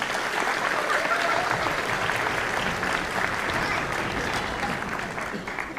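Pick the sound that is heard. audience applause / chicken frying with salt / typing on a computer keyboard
audience applause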